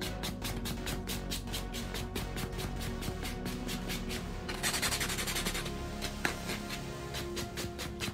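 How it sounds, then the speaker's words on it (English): A nail buffer rubs back and forth over fingernails in a fast, even run of close, soft scrubbing strokes, with a brief pause and a slightly harsher passage midway. "So now with our buffer, we gotta go real through and get a good buff."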